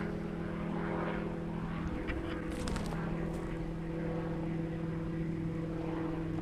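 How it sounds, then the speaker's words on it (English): Helicopter flying overhead in the wilderness, a steady droning rotor and engine hum that holds at an even level throughout, with a faint rustle partway through. "I've got a helicopter flying."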